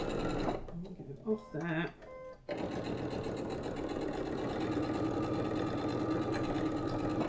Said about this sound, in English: I'm going to lengthen my stitch just a little bit because it's struggling a bit to get through that wadding.